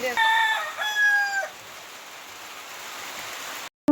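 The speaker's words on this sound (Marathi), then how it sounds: "तुम्ही बघितलंच इथे कोंबड्याने देखील बाग दिलेला आहे" A rooster crows once in the evening after a downpour, a loud drawn-out call lasting about a second and a half, then a steady soft background hiss until the clip ends.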